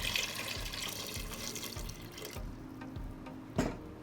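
Tap water runs and splashes into a Cuckoo multi-cooker pot holding arranged salted eggs, a steady close trickling stream that thins out near the end, punctuated by a sharp clunk.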